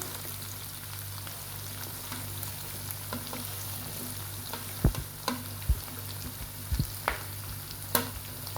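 Mixed vegetables for fried rice sauté in a hot pan with a steady low sizzle, broken by a few sharp scrapes and clinks of a spatula being stirred through, fairly quiet and close with no talk.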